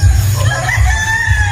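A rooster crows loudly and close on a game farm in Batangas, one sustained strained call standing alone with no talk.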